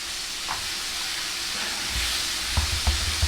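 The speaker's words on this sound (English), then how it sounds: "呢啲 bacon 咧，呢度係咁慢慢煮緊啦" Bacon cooking slowly in a pan gives a steady, even sizzling hiss, with a few louder low thumps of handling near the end.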